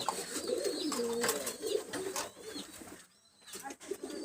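Pigeons kept in a loft in Khulna, some sitting with young chicks, coo softly and steadily close by, with a brief quieter lull near the end.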